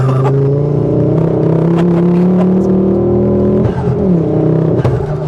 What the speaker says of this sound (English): even driving normal, I mean, you can definitely hear the exhaust